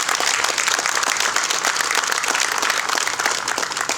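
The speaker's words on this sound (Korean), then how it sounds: "우리 두 분에게 다시 한번 큰 박수를 보내주시기 바랍니다" Audience applause at a Korean Presbyterian church prayer rally, a dense, sustained crowd ovation that stays loud and even from start to finish.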